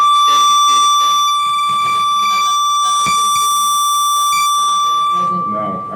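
Telephones ring loudly in a meeting room during a planning board meeting, a steady electronic tone repeating over several seconds while people talk over it.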